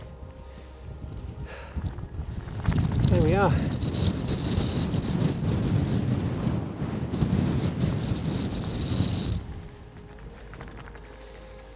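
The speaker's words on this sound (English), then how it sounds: "very windy from my left." Strong gusting wind roars across an exposed moorland hilltop on Kinder Scout, buffeting loudly for several seconds before easing, with a brief spoken remark.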